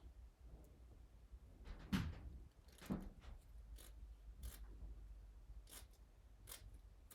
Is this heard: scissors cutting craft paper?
yes